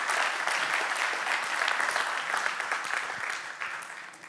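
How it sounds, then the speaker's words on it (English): Sustained audience applause fills a conference hall after a talk at a PostgreSQL community event, a dense steady patter of many hands that holds strong throughout and eases slightly toward the end. "So again, a round of applause for Leticia."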